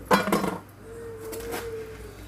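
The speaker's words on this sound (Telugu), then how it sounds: "కొంచెం ఒక స్పూన్ గల్లుప్పు వేస్తున్నాను." A spoon adds rock salt to a tomato and dried fish curry, giving a bright metallic clink and scrape against the pot, close and brief, followed by a soft lingering ring.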